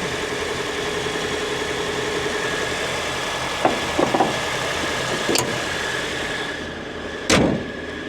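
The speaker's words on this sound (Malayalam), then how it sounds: "ഈ ഒരു സൗണ്ടാണ് എൻജിൻ സൗണ്ടായിട്ട് വരുന്നത്" A 2025 Toyota Innova Hycross VX with its 2.0-litre engine idles steadily under the open bonnet, a quiet, smooth hum with a few faint clicks and knocks near the end.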